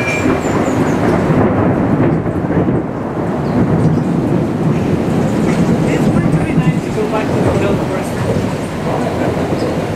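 Heavy rain pours down steadily in the Bella Vista cloud forest of Ecuador, a dense loud hiss with low rumbling that may be thunder, continuous throughout.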